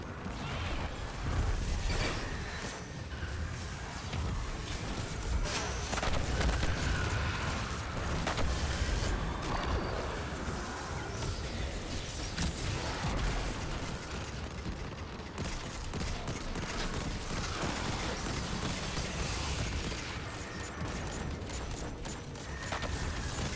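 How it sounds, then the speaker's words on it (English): Explosions and weapon fire from the Destiny 2 video game make a dense, continuous clatter of bursts, booms and mechanical rattles that stays busy and fairly loud throughout. "Multiple explosions."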